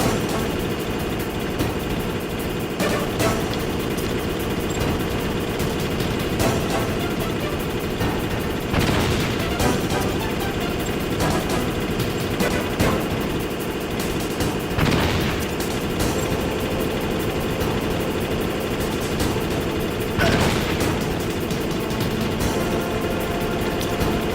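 Cannon blasts and gunfire in the Metal Gear Solid video game, repeated heavy booms and sharp shots over a dense, continuous loud rumble of engine and battle noise.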